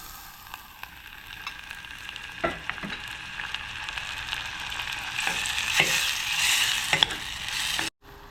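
Garlic frying in a pan: steady sizzle with crackling pops, a few sharper clicks of a utensil scraping the pan, ending abruptly.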